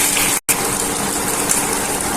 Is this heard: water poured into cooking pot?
yes